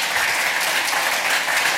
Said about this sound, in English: Please give a round of applause to Robert.